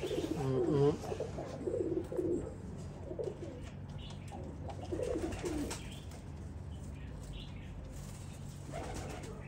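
Pigeons coo softly in a loft in Marrakech, low repeated throaty calls with faint rustling and flutters in the background, fairly quiet and near.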